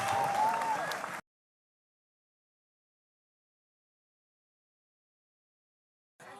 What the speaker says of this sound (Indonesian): Tepuk tangan sekali lagi untuk Mas Kirun